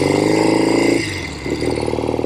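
A 1970 Royal Enfield Interceptor Mk II 750 motorcycle engine runs through its original exhaust pipes, giving a loud, close, pulsing throb that eases off briefly and then builds again.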